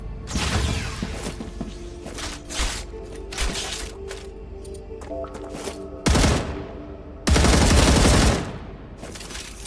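A new gun fires in a video game with alien monster hordes, rapid loud bursts of gunfire coming in several long runs with short pauses between them, alongside clattering mechanical game effects.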